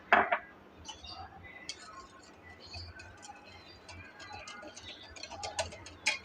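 Yogurt and gram flour stirred together in a bowl for kadhi batter, with a spoon clinking and scraping against the sides in quick irregular taps, close and fairly quiet.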